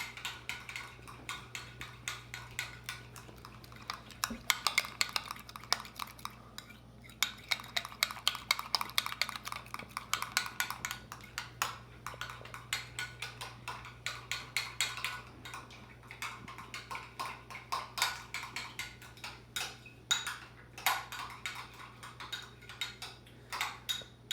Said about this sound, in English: Mix that jelly into that cheese.